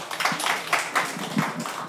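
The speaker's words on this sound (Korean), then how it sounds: "박수로 맞아주십시오." Audience applause welcoming the integration committee chair at a redevelopment information session, a brief burst of scattered hand claps, moderately loud and fairly steady throughout.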